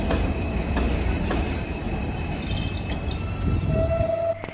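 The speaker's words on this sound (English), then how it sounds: "the train just stopped at the station, the Marcy Avenue station" An NYC subway J/M train slows and halts at Marcy Avenue station, heard from inside as a sustained rumble and rattle with brief wheel squeals and a high tone near the end as it stops.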